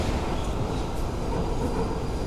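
A London Overground train in the video game Fallout London rumbles along the rails, a loud, steady rolling roar with faint clatter that holds without pause and has no talk over it.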